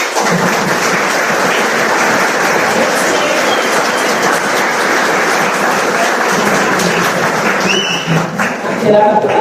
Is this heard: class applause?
yes